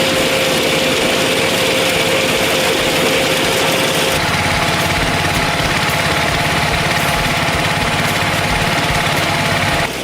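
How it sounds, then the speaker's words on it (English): Igusa rush-grass harvester with sharp blades moving along the rows in a field, a steady loud engine drone with continuous cutting clatter throughout, tone shifting slightly partway through, no talk. "the harvester is adjusted to move along the Igusa rows, using sharp blades to neatly trim each grass stem at the appropriate height"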